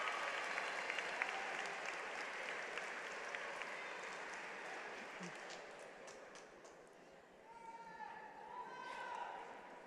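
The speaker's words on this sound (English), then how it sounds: "give a huge round of applause to those who supported you and stood beside you, thick and thin" Graduation ceremony audience applauding in a large hall, a broad, steady wash of clapping that stays fairly faint and distant, thinning slightly toward the end with a faint tone underneath.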